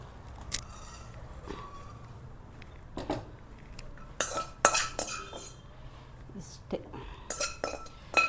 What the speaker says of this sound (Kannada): ಇವಾಗ ನಾನು ಫ್ರೈ ಮಾಡ್ಕೊಂಡಿದ್ದಲ್ಲ ಈರುಳ್ಳಿ ಬೆಳ್ಳುಳ್ಳಿ ಇದನ್ನು ಸೇರಿಸ್ತೀನಿ